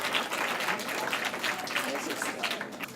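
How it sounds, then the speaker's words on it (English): An audience at a hospital employee recognition ceremony claps, a dense patter of many hands with some voices mixed in, fairly loud and steady throughout. "Big round of applause to Ms. Boateng and Nursing Station 72."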